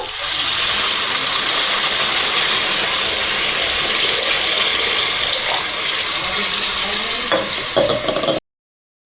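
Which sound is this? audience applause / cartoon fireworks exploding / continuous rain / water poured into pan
water poured into pan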